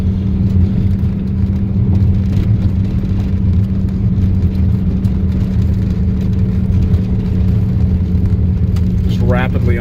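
A Fiero climbs Virginia Canyon Road, a mountain road, its mid-pitched engine droning steady and loud up the hill, with a faint chirp near the end.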